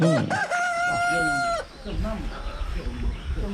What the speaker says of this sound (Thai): อันนั้นเป็นเล้าไก่